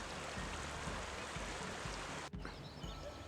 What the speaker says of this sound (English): This is a creek that feeds Manzanita Lake.